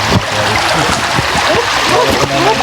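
River water flowing and splashing during a crossing on foot in mountainous terrain, a constant rushing wash up close with voices talking over it.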